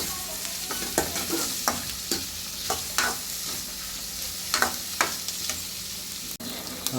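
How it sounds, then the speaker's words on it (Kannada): Onions for onion bajji are stirred while they fry in a pan, a steady close sizzle broken by repeated sharp scraping strokes of the spatula, with no one talking. "ಈರುಳ್ಳಿ ಚೆನ್ನಾಗಿ ಗೋಲ್ಡ್ ಕಲರ್ ಬರಬೇಕಂದ್ರೆ ಸ್ವಲ್ಪವರೆಗೆ ಚೆನ್ನಾಗಿ ಈ ಥರ ಮಿಕ್ಸ್ ಮಾಡಬೇಕು"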